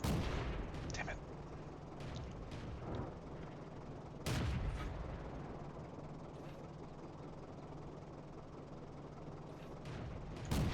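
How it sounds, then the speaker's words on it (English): Guns from the A13 Mark II tank and others in a World of Tanks battle fire in sharp bursts, a few loud cracks scattered among distant booms over a constant rumbling engine drone, with no talking. "those two-shot bursts that you heard earlier were coming from this tank, the A13 Mark II"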